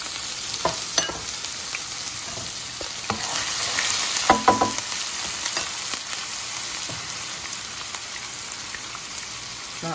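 Garlic and ginger fry for pepper snail in a steady sizzling hiss, with scattered stirring clicks and a brief louder burst of spattering partway through.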